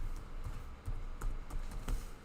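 Keystrokes on a computer keyboard, a handful of distinct taps in an uneven rhythm over a low background hum, fairly close and moderately quiet, with no talking.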